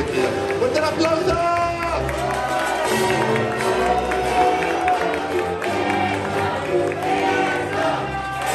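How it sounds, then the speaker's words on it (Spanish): Audience applause and cheering at a Sunday comedy show, with dense sustained clapping and crowd noise mixed with loud music and voices throughout. "¡Fuerte aplauso!"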